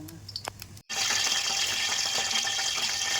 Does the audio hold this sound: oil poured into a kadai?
yes